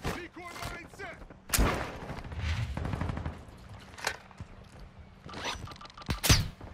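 Gunfire from the Warzone 2.0 shooter game bursts out in sharp, punchy volleys, several separate bursts spread through the stretch, loud and close, with players talking over the action.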